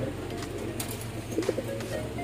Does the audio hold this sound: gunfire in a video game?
no